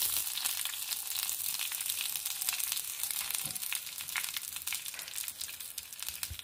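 Mustard seeds sizzle and crackle in hot oil, tempering a cucumber chutney. Dense, steady popping and hissing continue close by throughout, with no speech.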